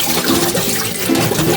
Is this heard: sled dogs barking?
no